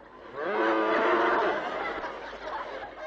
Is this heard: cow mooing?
yes